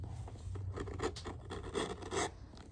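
A knife trims leather on a Danner Sierra shoe being customized, giving short scraping, rasping strokes in a quick irregular series, close and fairly quiet.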